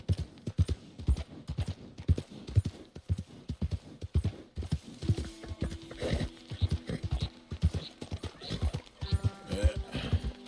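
Horse hooves clip-clopping at a steady gait in Red Dead Redemption 2, with a whinny and neighing partway through; rhythmic, close and fairly loud throughout the ride.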